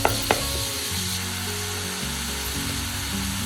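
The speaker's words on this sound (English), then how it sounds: "Add our minced pork in and stir it well together." Minced pork stir-fries with golden garlic and chili in a pan, a close steady sizzle with a couple of sharp utensil knocks near the start and a low hum beneath.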